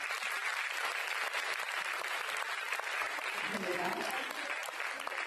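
Audience applause at a music and arts concert in Chandigarh, a continuous moderate wash of clapping heard from within the hall, with a voice faintly present underneath.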